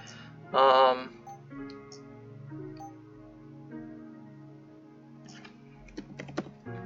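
Computer keyboard typing during a Rift Wizard 3 game session: a few quiet, scattered key clicks that bunch into a short burst near the end, with a brief loud tonal sound early on and a soft hum throughout.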